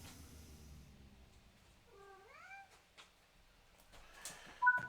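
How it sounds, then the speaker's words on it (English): A cat lets out a single rising, drawn-out meow in a quiet room, faint and fairly close, followed by a few soft clicks and knocks and a brief higher squeak near the end. "What are you meowing at?"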